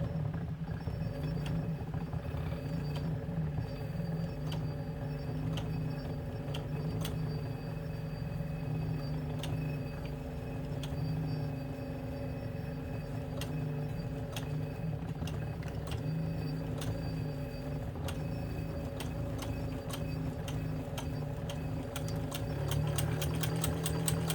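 Kenmore 117.95 sewing machine with a new friction wheel stitching through two layers of leather, a steady close motor hum with a fast needle rhythm and faint regular clicks running unbroken throughout.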